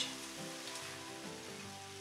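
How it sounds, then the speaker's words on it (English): A soft, steady sizzle of chicken and water chestnuts frying in a pan, quiet and even, with no voices. "let that and the chicken just sizzle over for a couple of minutes"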